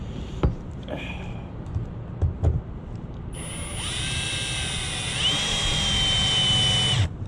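A power drill drives deck screws during an outdoor fall cleanup job, starting after a few knocks and thumps, then running with a loud, steady high whine for several seconds before stopping. No one speaks.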